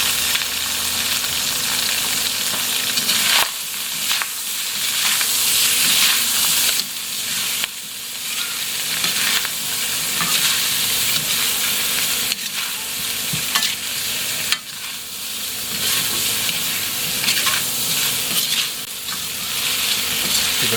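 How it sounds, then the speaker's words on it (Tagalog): Pork liver fries in a pan with a steady, loud sizzle and crackle, broken by occasional stirring scrapes; no talking. "Prito natin ito. Ito naman yung pork liver."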